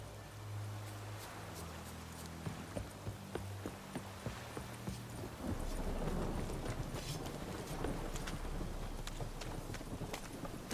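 Roach the horse galloping in The Witcher, a steady run of hoofbeats at close range with rustling and a low, continuous game background, growing denser partway through.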